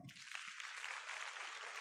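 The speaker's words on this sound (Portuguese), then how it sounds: "Receba o pastor Léo Fagundes com a salva de palmas" Applause from a church conference crowd welcoming a pastor to the stage, a dense, steady wash of clapping that holds evenly throughout.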